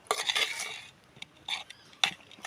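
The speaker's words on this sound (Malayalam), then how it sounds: "കറിവേപ്പില ഇട്ട് കൊടുത്തിട്ട് നന്നായി ഇളക്കി കൊടുക്കുക" Metal utensil scraping and clinking in a pan as mackerel curry is stirred with curry leaves, several brisk bursts of stirring separated by short pauses, close and clear with no talking.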